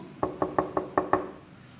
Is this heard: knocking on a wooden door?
yes